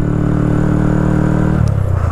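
Honda Grom motorcycle engine running steadily in second gear at about 20 mph, a loud close drone with harmonic hum that shifts pitch briefly near the end.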